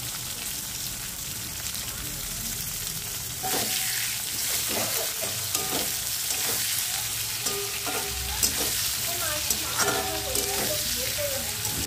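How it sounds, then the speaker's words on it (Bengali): Cut potatoes fry in a pan with a steady, loud sizzle and crackle throughout, while light clinks of a utensil stirring and tapping come and go close by. "তার আগে আলুগুলো কেটে নিয়েছি, আলুগুলো আগে ভেজে নিই"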